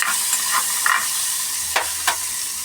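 Chickpeas fry and get stirred in a pan, a steady sizzle broken by a few sharp scraping stirs near the microphone, with no talking.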